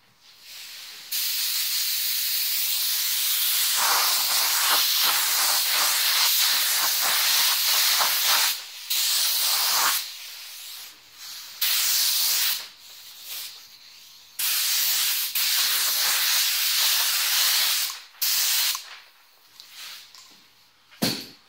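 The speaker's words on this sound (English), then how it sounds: "We'll put our second final coat of clear on." A spray gun lays a final clear coat of paint on a devil horns plaque, a loud steady hiss in long bursts broken by short pauses and on-off triggers.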